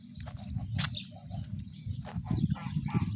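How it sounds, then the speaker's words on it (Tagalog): A crowd of pigeons coos and murmurs in low, overlapping burbling calls close by, with a few brief higher chirps mixed in. "kalapati, daming kalapati."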